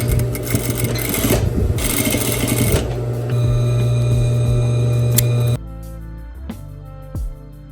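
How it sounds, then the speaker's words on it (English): A sewing machine stitches along the edge of a denim skirt in loud, rapid mechanical chattering runs with brief pauses between bursts, then stops, leaving faint handling clicks. "I'm gonna stitch right on the edge"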